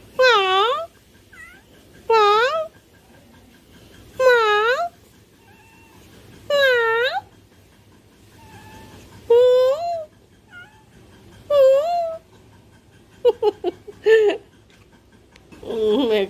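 A cat meows clearly and close, with roughly seven drawn-out, pleading calls spaced a couple of seconds apart in a quiet room and a few shorter chirpy mews near the end.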